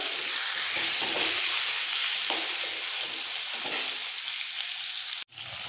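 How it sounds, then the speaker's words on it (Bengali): Pointed gourd (potol) pieces fry in hot oil with a little turmeric, giving a steady dense sizzle with occasional stirring scrapes throughout, cut by a brief pause near the end. "পটলগুলিকে খুব ভালো করে ভাজবো"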